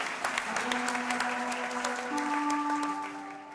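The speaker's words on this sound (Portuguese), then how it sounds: "Uma salva de palmas pro Lafa" A church congregation applauds in a dense, steady wash of clapping while sustained keyboard or organ notes hold underneath, moderately loud and continuous throughout.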